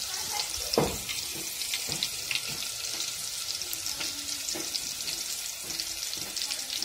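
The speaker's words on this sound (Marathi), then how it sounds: "आपल्याला सार फोडणी टाकायचं आहे आणि लसूण पण एकदम बारीक कुटून घेतलेला आहे खलबत्त्यामधून" Finely pounded garlic tempering in hot oil for saar, a steady close sizzle with occasional stirring clinks and knocks, continuing without talk.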